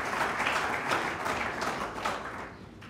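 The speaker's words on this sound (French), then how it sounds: "Et je vous demande d'applaudir Monsieur le Directeur Général" Steady applause from an audience fills the whole stretch, a dense wash of clapping that fades slightly toward the end.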